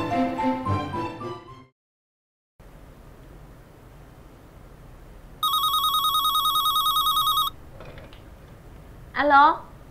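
An office telephone rings with a bright electronic trill for about two seconds, clear over a low room hiss, with voices speaking briefly before and after it.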